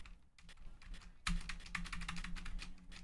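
Computer keyboard keys are pressed in a quick, quiet run of clicks. A sharper tap stands out partway through, over faint background hiss, with no talking.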